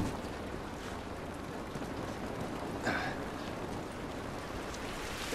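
Steady rain hisses in The Last of Us Remastered, an even wash of falling drops and surface patter throughout with a brief brighter splash near the middle, no voices.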